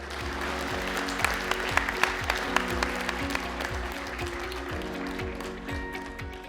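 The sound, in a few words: audience applause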